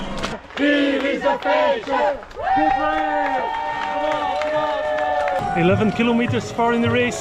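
Spectators at the 2024 UTMB ultra trail race around Mont Blanc roar and whoop loudly for passing runners, a sustained, close wall of cheering voices with someone talking over the din.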